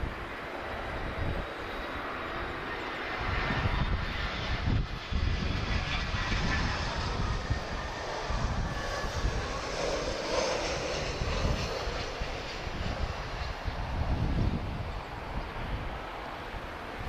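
Airbus A321neo jet bound for Toronto at Lisbon Airport, its engines a steady, fairly loud roar under gusty wind noise, swelling slightly midway and holding without any voices.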